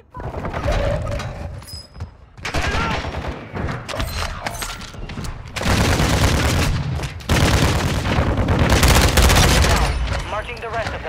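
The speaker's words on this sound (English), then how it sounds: "Friendly mortar strike on the way." Call of Duty combat in the Al Mazrah Resurgence map, with loud bursts of automatic gunfire and booming mortar strike explosions in heavy, repeated waves, broken by brief pauses and some shouted voices.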